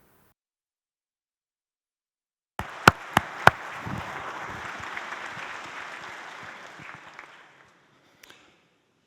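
Conference audience applauding at a welcome session: a few sharp claps burst out, swelling into a full round of clapping that holds for several seconds and then fades, followed by near silence and a couple of stray claps.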